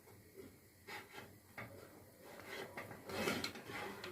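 Qamar el din apricot paste boiling in a pot on the stove, a faint, soft bubbling hiss with scattered little pops that grows slightly toward the end.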